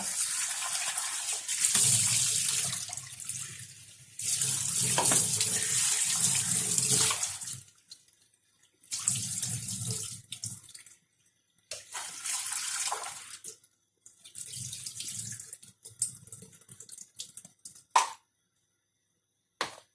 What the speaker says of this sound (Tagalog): Then, we rinse all the ingredients